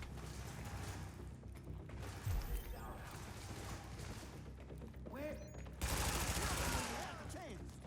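Gunfire crackles through a firefight in The Division, with bursts of automatic shots, a couple of louder blasts, and mechanical clicks mixed into steady background combat noise.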